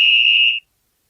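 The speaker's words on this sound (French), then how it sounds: "Le sifflet du gendarme." One short, shrill police officer's whistle blast, steady and piercing, cut off sharply after about half a second, followed by silence.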